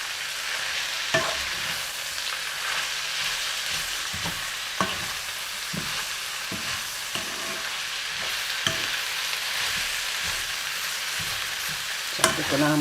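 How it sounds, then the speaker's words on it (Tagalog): Kale cooks in coconut milk in a pan on the stove, a steady soft sizzle and bubbling with scattered scraping knocks of a utensil stirring against the pan, no voices. "Haluin lang po natin at ilagay na natin yung gata."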